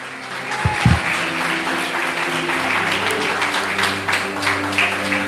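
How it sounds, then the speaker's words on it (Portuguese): Church congregation clapping in praise, a continuous wash of hands clapping with a sustained musical drone or hum underneath, moderately loud and steady throughout. "E as palmas que exaltam e glorificam ao Senhor."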